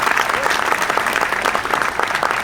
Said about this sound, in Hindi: इसके लिए दिल से ताली बजाते हैं हम लोग